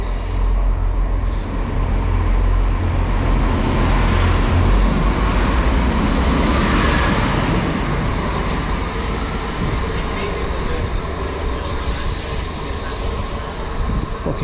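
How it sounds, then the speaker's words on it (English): Turbo train 166217 rolls through Bath Spa station, a loud steady rumble of diesel engine and wheels on rail continuing close by for the whole stretch, with faint metallic squeal. "we've got a passing train now, which is a turbo"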